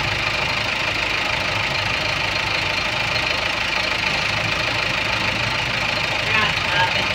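A Kia Sorento engine runs steadily with a noisy compressor bearing, producing a loud, constant mechanical drone and whir throughout with no pauses.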